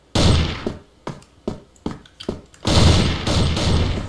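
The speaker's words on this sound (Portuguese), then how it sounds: "Eu dou um tiro no Fantasma e ele morre" Gunfire in a tactical shooter match, several sharp separate shots in an uneven rhythm followed by a longer sustained burst, loud and close with no talk over it.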